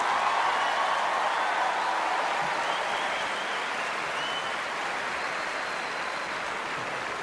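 Sustained applause from a large crowd at Wimbledon's Centre Court fills the air as players come out for the 2008 men's final, a broad, even roar of clapping that carries on without a break.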